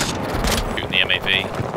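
Gunfire aimed at a MAV vehicle in the video game Battlefield 2042, a short burst of close, loud shots over constant battlefield noise.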